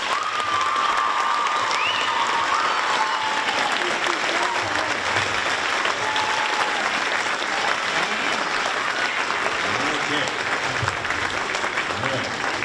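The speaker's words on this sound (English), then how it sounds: "let's give him a huge round of applause" Audience at a middle school spring music festival applauds a teacher, a sustained, even round of clapping with some crowd murmur and a few cheers mixed in throughout.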